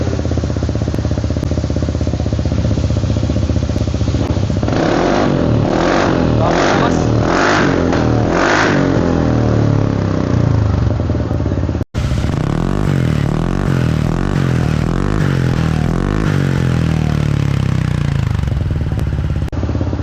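A Kymco KRV180 scooter fitted with a titanium VMAX full exhaust system and elbow idles, then gets blipped in a rapid series of sharp, loud revs, followed by a longer rising rev and a drop back to a rumbling idle.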